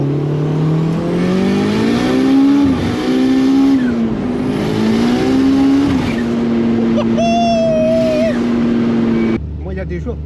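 A Citroën Saxo VTS with a turbo engine of over 500 hp revs hard toward 9000 rpm, the pitch climbing, dipping and climbing again in repeated loud pulls, then cutting off sharply near the end.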